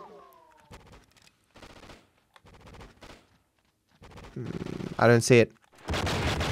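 Gunfire in the video game True Crime: Streets of LA comes as short rattling bursts spread through the clip, with a louder blast near the end; someone talks briefly between the shots.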